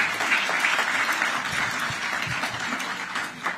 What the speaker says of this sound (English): a round of applause once more to welcome him